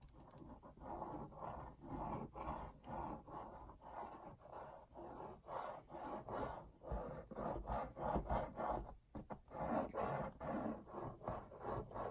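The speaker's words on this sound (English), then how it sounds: "using this quick adhesive, I'm just doing the card and chipboard area" Quick adhesive is spread across card and chipboard in repeated rhythmic rubbing strokes, a close scraping swish that rises and falls about once a second.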